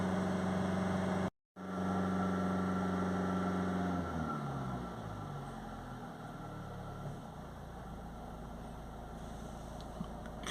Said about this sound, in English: now the vehicle's just going to hold itself on a few revs